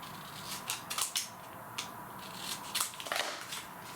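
Scissors snip through paper for a scrapbook album. Several short, crisp cuts come close by in an uneven rhythm over a quiet background.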